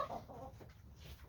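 Chickens clucking inside a chicken cage on a cold day, a soft, scattered chorus of low clucks from several birds, fairly faint and steady with no talking.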